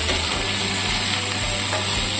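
Muri ghonto being stirred in a cooking pot, a steady close scraping and sizzling texture with a constant low hum throughout, no voices.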